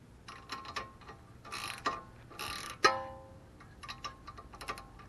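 A ratchet tightens the tie rod castle nut on a 1995 Toyota Camry, quiet bursts of rapid clicking in several short runs separated by metallic clinks and pauses.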